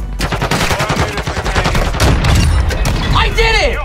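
Dense gunfire in a Call of Duty MW2 Search and Destroy match, rapid close shots in quick succession with booming low end, while voices talk over the action.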